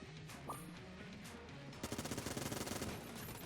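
Vulcan Cannon fire in the video game Enter the Gungeon: a long burst of rapid, evenly spaced shots that starts partway in and runs to the end, loud over busy game effects and music.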